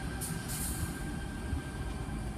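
A Sydney Trains T-set rolls through Sydenham station on a Cronulla service, a continuous near rumble of wheels on rail with a steady faint whine and brief high hissing bursts.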